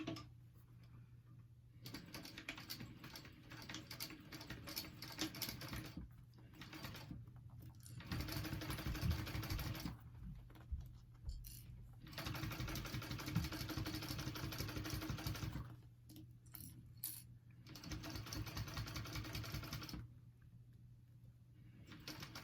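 A sewing machine stitches a clutch wallet in several rapid bursts of mechanical whirring and ticking, each lasting a few seconds and separated by quiet pauses, close and clear with no talking.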